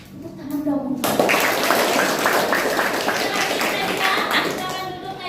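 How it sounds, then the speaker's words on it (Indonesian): Children in an Indonesian primary school classroom break into a burst of clapping, a dense patter of many hands that starts abruptly and carries on for several seconds, with young voices mixed in. "Tepuk tangan dong."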